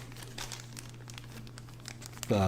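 Plastic bags holding game pieces crinkle as they are handled during a board game unboxing, soft close rustles and crackles over a low hum, ending in a louder burst.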